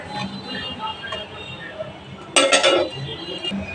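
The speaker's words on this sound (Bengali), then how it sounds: "জলটা দিয়ে একটু নেড়ে ছেড়ে দিচ্ছি।" A spoon scrapes and clinks against a cooking pot while rice and water are stirred, mostly soft with one brief loud burst of metallic clatter midway, over quiet background noise.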